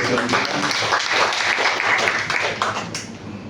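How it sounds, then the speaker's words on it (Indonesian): Church congregation applauding for Jesus during a sermon, a dense, steady wash of clapping that fills the space throughout, with some speech-like texture mixed in. "Boleh tepuk tangan buat Yesus."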